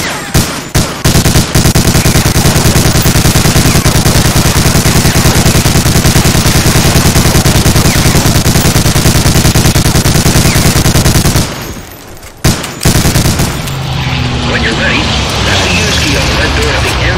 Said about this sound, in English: Destroy the target with that machine gun.